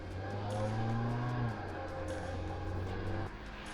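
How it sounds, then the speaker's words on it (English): A Honda Civic EJ9 hatchback on newly fitted MeisterR Zeta Pro coilovers is driven on a test drive, its engine humming steadily from inside the cabin with a brief rising rev before it settles lower. "let's take this for a test drive, and feels very stiff already"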